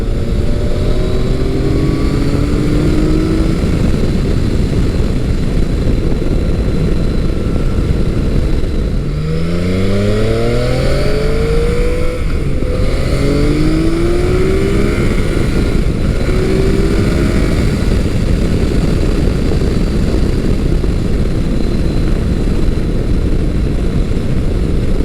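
Modified Yamaha FJ-09 motorcycle with upgraded springs and a flashed ECU, engine droning steadily while riding, with rising and falling revs and wind rush throughout, loud and continuous with no talking.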